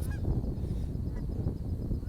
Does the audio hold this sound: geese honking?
yes